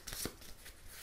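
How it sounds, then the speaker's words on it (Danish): Playing cards for the TimeBomb deduction card game are shuffled by hand, a short run of soft, papery riffles and slaps, close but quiet. "Så blander man kortene her, sådan der."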